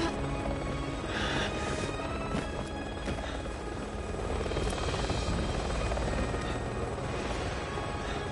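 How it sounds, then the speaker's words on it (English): Helicopter from the video game Resident Evil 6, a steady rotor and engine drone that holds loud and continuous throughout with no talk. "And also there's Ada Wong in the helicopter."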